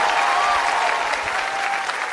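Studio audience applause at a comedy show on a Chinese variety stage, a steady dense wash of clapping that holds loud and even from start to finish with no voices over it.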